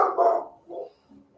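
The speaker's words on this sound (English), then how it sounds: "I acknowledge that my dog is barking." A pet dog barks indoors in two or three short, close bursts, the first loudest and the later ones fading.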